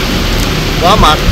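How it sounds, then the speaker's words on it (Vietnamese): Rain pours steadily at a mountain campsite near Bromo volcano in Indonesia, a dense close hiss throughout, with a person briefly speaking near the end. "Mưa rơi"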